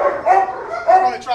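A dog barking during a tense encounter with another dog: a few sharp, close barks and yips with short gaps between them.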